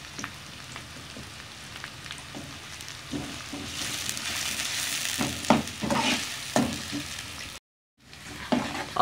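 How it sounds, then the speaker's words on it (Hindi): Onions frying in oil in a pan for sarson ka saag, a steady sizzle with repeated scraping stirs growing busier midway, a brief dropout, then more stirring. "अब इन प्याज को तकरीबन 2 मिनट के लिए भून लेंगे।"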